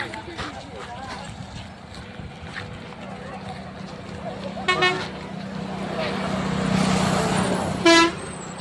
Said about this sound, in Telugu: మా ఊరి పల్లె వెలుగు బస్సు పోయిందే